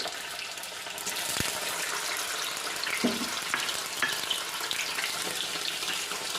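Paneer cubes frying in hot oil for paneer masala give a dense, steady sizzle with a few sharp pops and crackles, close and fairly loud, with no voices.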